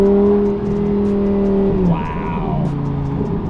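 A repaired, previously crashed Lamborghini engine hums steadily, then its pitch drops and shifts as the car changes gear and keeps driving, loud and close.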